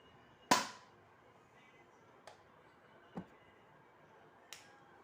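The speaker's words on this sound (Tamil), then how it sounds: "இந்த புல்லட் ரொம்ப ஃபாஸ்ட்டாக தான் சுடுது." A toy pistol fires bullets: one sharp, close snap, then three fainter pops spaced a second or so apart, over a quiet background.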